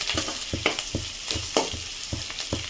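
Two broken dried red chillies sauté in a hot pan for broad beans poriyal, giving a steady oil sizzle with repeated sharp scrapes and taps of a spatula stirring at an uneven rhythm, close and fairly loud, with no talking.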